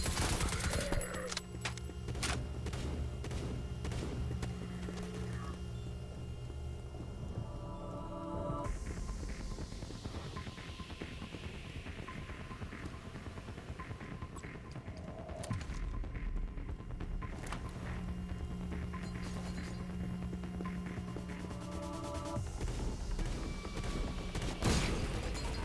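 Turret gunfire in a sci-fi video game, dense sustained bursts of shots layered over a constant droning hum and mechanical throb, loud and continuous throughout with no talk.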